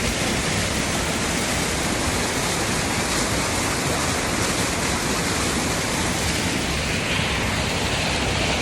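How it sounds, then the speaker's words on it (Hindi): A waterfall pours into a lake at Nainital, a dense, loud, continuous rushing roar of water with no voices over it. "फिर यहीं से झरना शुरू हो करके तो पानी तक पहुँच जाता है।"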